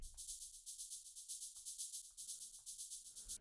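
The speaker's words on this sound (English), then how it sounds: "Shaker 1 sounds like this." A synthesized shaker plays a steady 16th-note pattern in an electronic dance track, its hissy strokes pulsing evenly with velocities rising and falling, loud and alone.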